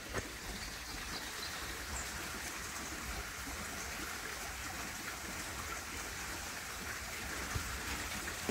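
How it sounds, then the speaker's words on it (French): A stream flowing in the distance on a walking route between Bidache and Ilharre: a faint, steady rushing of water that continues unbroken throughout, with no voices. "Au loin, on entend un ruisseau qui coule."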